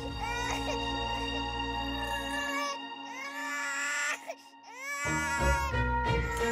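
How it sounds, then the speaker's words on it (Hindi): An infant cries and wails loudly nearby in short rising and falling bursts, broken by a brief pause, with dramatic background music underneath in a television drama scene. "ये सच में बच्चे के रोने की आवाज है।"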